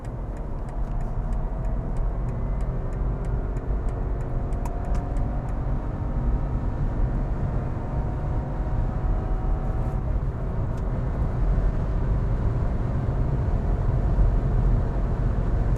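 A BMW G22 420i M Sport with a 170 HP engine runs steadily and close, its tone swelling and easing slightly as the throttle is worked, with no talk over it.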